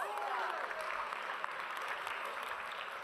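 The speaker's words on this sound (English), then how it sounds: "Let's give him a round of applause." Classroom audience at a high school lecture clapping for a student, a brief dense patter of applause from a small group, close and fairly even, with a faint voice underneath.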